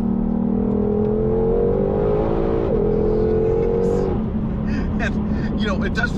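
A 2021 Shelby GT500 Mustang with a dual-clutch gearbox pulls hard on an open road, its engine note climbing in pitch, then dropping sharply with a quick downshift before building again, loud and close with cabin noise.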